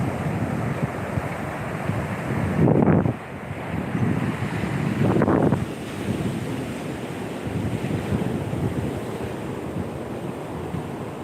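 Steady roar of Indian Ocean surf at Batu Mikhau beach, Krui, with wind buffeting the microphone, two louder wave crashes rising and falling in the first half, no voices.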